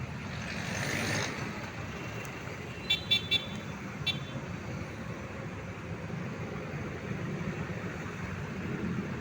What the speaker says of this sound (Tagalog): Traffic mga idol, traffic.